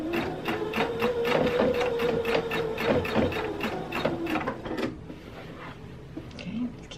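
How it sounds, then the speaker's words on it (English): A sewing machine stitches flannel fabric around a doily in a fast, even run of mechanical clatter, slowing and stopping near the end, while someone talks over it. "I'm going to keep my needle in the down position while I'm sewing"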